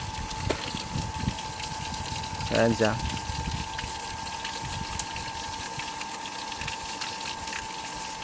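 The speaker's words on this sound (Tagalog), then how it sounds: "Tagal pala maghigop ang motor na ito." An AC/DC water pump motor runs as it draws water, a steady mechanical hum with a watery churn underneath. A brief voice speaks partway through.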